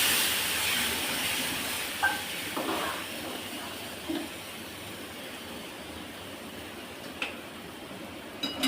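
Water poured into a hot pot of vegetable sambar sets off a sustained, fairly quiet hiss of steam, broken by a few light metallic taps.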